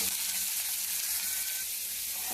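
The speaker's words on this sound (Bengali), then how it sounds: "তেলটা হয়ে গেছে, এবারে পেঁয়াজগুলোকে দিয়ে দেবো।" Sliced onions fry in hot oil, making a loud, even, hissing sizzle close up that holds steady throughout with no talk.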